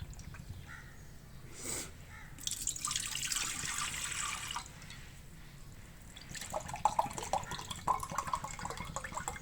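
Water poured from a glass into a cooking pot, four glassfuls measured for jaggery sweet rice, splashing and trickling in bursts across the clip with quieter pauses between pours, close and moderately loud.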